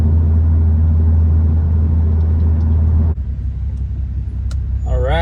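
A BMW 335i with the N55 engine and MHD Stage 2 E30 blend tune cruises along, a loud steady low drone that eases partway through as road noise takes over, with a brief voice near the end.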